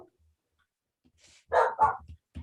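A dog gives two or three quick, sharp barks nearby after a stretch of near silence, followed by a softer trailing yip.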